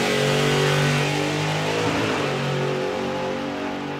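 A car revving hard and launching down a drag strip at a Bug Jam festival, a loud sustained engine roar that rises and carries on steadily, with no voices over it.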